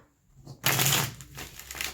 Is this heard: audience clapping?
no